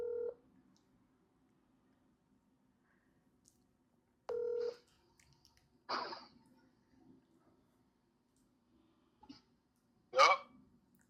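Phone dialing tones while calling an ex: two short electronic tone bursts spaced several seconds apart, with faint breathy noises and small rustles in a quiet room between them.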